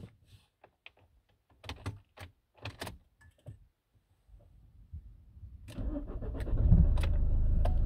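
Nissan X-Trail 2.0 dCi Sport diesel, with a few soft clicks and switch sounds before the engine cranks and catches, then settles into a loud, steady idle close by.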